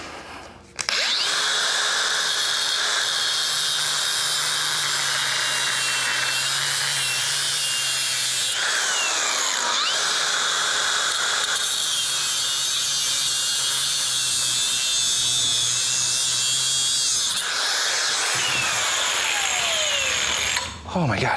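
A power tool whines loudly and steadily while trimming the frame of a 1981 Harley-Davidson Ironhead Sportster, cutting in three long passes with brief pauses between them.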